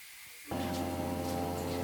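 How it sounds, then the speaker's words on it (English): Onions and mushrooms sizzle in a hot pan, a steady close hiss with a low hum underneath that starts abruptly and then holds at an even level. "we've still got the onions and the mushrooms sizzling away nicely"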